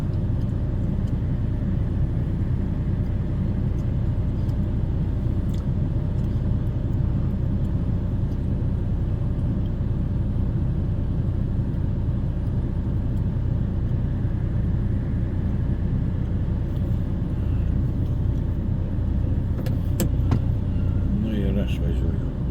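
A car drives along steadily, with a continuous low engine and road rumble throughout and someone talking over it.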